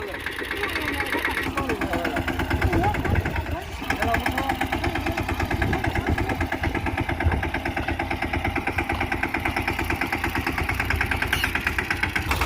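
A tractor engine idles and runs steadily in a groundnut field, a loud, close, continuous rhythmic chug with a brief dip near the middle.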